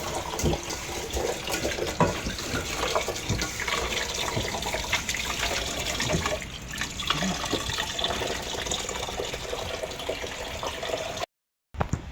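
Water pours steadily into a cooking pot for pork humba, a continuous close splashing rush that runs for several seconds before stopping briefly.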